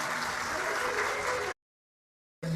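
A crowd at a Shiv Maha Puran katha gives a loud welcoming round of applause, dense and steady for about a second and a half before cutting off abruptly into silence.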